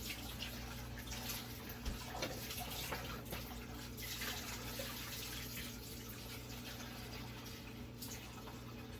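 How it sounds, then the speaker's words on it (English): Water runs steadily from a tap into a container, a continuous low rushing that stays constant throughout with no voices. "Add some cold water to it."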